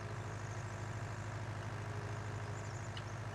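A tractor engine in Farming Simulator 2019 drones at a steady idle, a low continuous rumble that stays loud and even throughout with no talking over it.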